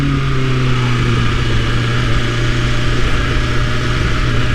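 A 2021 BMW S1000RR motorcycle engine while riding through town, a loud steady drone with a constant low hum and some wind rush, no talking.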